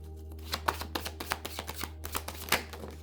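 Oracle cards being handled and laid down during a reading, a quick series of crisp close slaps and flicks in an irregular rhythm, clear and alone with no voice.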